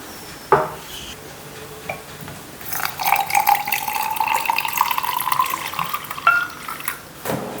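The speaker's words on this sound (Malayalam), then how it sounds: "ഇനി ഇതിലേക്ക് ചൂടുവെള്ളം ചൂടായത് മിക്സ് ചെയ്യാം." Hot water is poured into a bowl of ingredients with sugar and salt, a rising gurgling pour after a few clinks, then stirring sounds close by.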